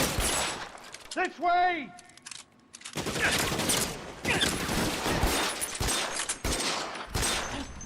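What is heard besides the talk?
gunfire in L.A. Noire video game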